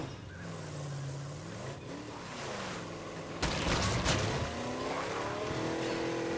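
A car in the video game State of Decay 2 drives with a steady engine hum that rises and falls in pitch, then bursts into louder tire squeal and skidding as it swerves.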